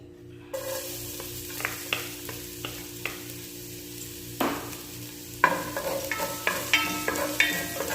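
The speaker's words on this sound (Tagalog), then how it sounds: "Igisa natin ang ating garlic hanggang sa mag-golden brown." Garlic sautéing in cooking oil for chicken tinola, a steady close sizzle with sharp utensil scrapes and stirring clatters recurring every second or so, busier toward the end; no one talks.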